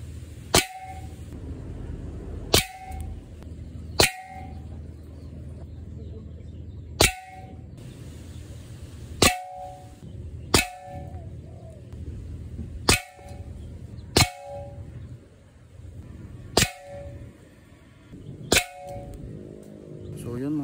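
Pellets from a DIY PCP air gun strike a broken red fire extinguisher at 25 meters, giving about a dozen sharp metallic clangs with a brief ringing tail, spaced a second or two apart over a steady low background hum.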